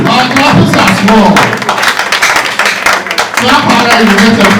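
Audience at a book launch clapping harder on request, a loud continuous wash of many hands with crowd noise and voices mixed in throughout.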